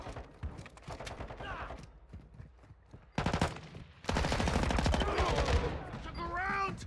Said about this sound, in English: That's why I shoot him in the back.